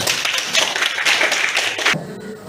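Students in a classroom lesson clap together on cue, a short burst of brisk, close hand claps that stops abruptly after about two seconds.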